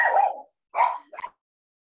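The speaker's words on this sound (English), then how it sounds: "Sorry about my dogs." Dogs barking indoors: one long bark followed by two shorter ones, loud and near, with silent gaps and no talking.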